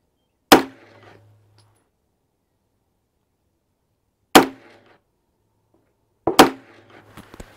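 A 9mm pistol fires CorBon DPX 115 grain ammunition during testing through a soft barrier, three sharp, loud reports spaced a few seconds apart, each with a short ringing tail.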